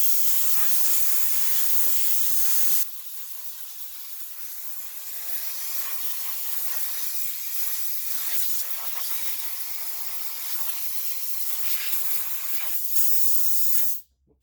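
Compressed air blasting onto a Poulan 42cc chainsaw in a workshop, a loud continuous hiss that drops slightly after a few seconds, then carries on steadily before cutting off abruptly.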